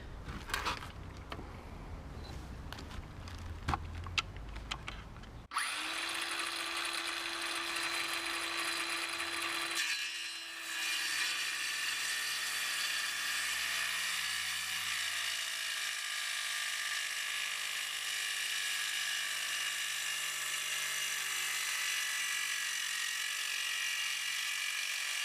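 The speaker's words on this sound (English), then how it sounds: "So we'll just have a little look at the circular saw going." A Certa circular saw spins up and bites into an old piece of hardwood, giving a loud, sustained high whine that holds steady for about twenty seconds, preceded by a few clicks and handling noises.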